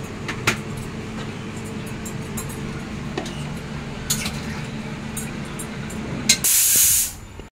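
A pressure cooker on a home kitchen stove, cooking lentils and vegetables, sits under a low kitchen hum with scattered clinks, then lets out a sudden loud burst of hissing steam that lasts about a second near the end.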